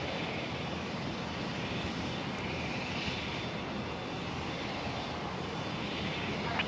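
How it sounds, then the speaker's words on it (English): Dash 8 turboprop starting up at Brisbane Airport, a steady broadband engine roar and whine heard from a distance, continuous and even throughout. "Another Dash 8 on startup here."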